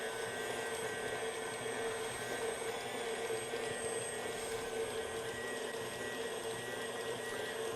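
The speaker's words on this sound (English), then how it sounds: "So we'll just turn our mixer on here." A stand mixer beats croissant dough with flour in a bowl, giving a steady, loud motor whine with a dense mechanical hum that holds unchanged throughout, with no voices.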